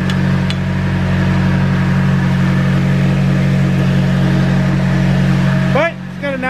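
A car engine idles steadily with a low, even hum that holds throughout, close and loud, with a few faint squeaky sounds near the end.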